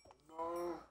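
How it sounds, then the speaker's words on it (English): A cow in the video game Minecraft gives a single short, faint moo, a brief tonal low call that swells and fades within about half a second, heard alone. "I killed the cow."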